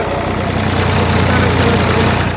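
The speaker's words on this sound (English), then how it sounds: "Tractor's moving closer and closer towards us." Tractor engine running steadily at a speedway track during a National League meeting, a continuous loud low rumble with no talk over it.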